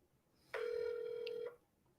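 A single steady electronic telephone tone, about one second long, sounds while an outbound cold call is dialed for real estate wholesaling. It is clear and moderately loud, with a quiet background and no talking.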